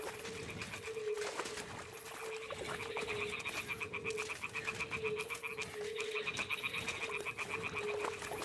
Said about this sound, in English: I can hear the frogs.